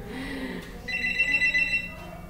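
A telephone rings with a short electronic trill repeated in a quick pulsing burst, clear and close against a low murmur of background noise.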